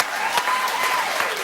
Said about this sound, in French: On applaudit aussi notre invité